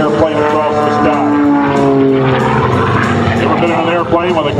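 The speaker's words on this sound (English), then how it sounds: "Comes back around and cartwheels the airplane across the sky." Aerobatic propeller airplane tumbling and cartwheeling at the 2011 Wings Over Wayne air show, its engine droning loudly and steadily with a wavering, shifting pitch as it maneuvers, under commentary from an announcer.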